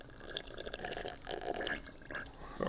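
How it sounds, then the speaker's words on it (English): Someone blows bubbles through drinking water, a quiet, close, irregular bubbling and gurgling that lasts a few seconds. "Are you blowing bubbles?"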